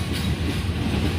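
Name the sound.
Lodaya passenger train passing on the railway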